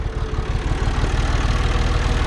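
Tractor engine idling close by, a loud, steady low chugging with an even rapid pulse and no load.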